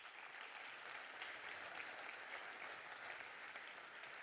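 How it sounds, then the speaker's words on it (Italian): Steady, dense applause from an audience at an award ceremony for a painting prize, continuous and even throughout. "Li accogliamo con un applauso."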